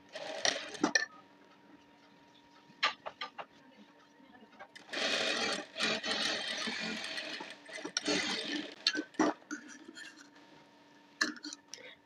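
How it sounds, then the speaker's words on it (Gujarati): A sewing machine stitches an edge seam on an unlined four-tuck blouse in short bursts, with one long continuous run in the middle, heard up close in a quiet room. "ત્યાં પણ એક ધાર સિલાઈ લગાડવાની છે"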